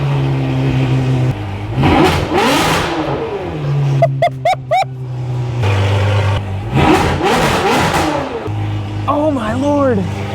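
An abandoned Ferrari 599 engine idles and revs hard several times in loud swelling bursts that drop back to a steady idle, heard close up with a person talking over parts of it.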